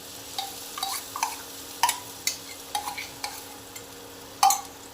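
Green pea paste for kochuri stirred and frying in a kadai, with repeated scraping and stirring strokes over a soft sizzle, close and moderately loud, no talking.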